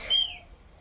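A single short bird chirp outdoors, one bright rising-then-falling whistle note heard faintly from a distance.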